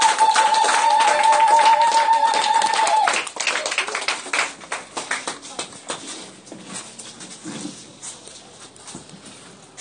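Worshippers at a Sunday service give a big round of applause, which starts as a dense, loud burst and then breaks into scattered, separate claps that gradually thin out and fade.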